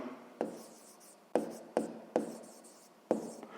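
Pen or pencil writing a math expression by hand on paper during a sixth-grade fraction exercise, close and quiet, with soft scratching strokes and several sharper taps as new marks begin, no talk.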